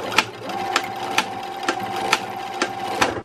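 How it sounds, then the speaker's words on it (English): A sewing machine runs steadily while stitching elastic forward and back on a large scrunchie, its close, continuous whir punctuated by sharp regular clacks roughly every half second. "I've just put it underneath to sew forward and then the back and then forward again"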